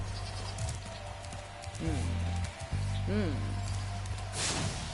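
Sheep bleat in the video game Spyro Reignited Trilogy, a few short wavering cries close by over a low steady game hum, with a person talking through much of it.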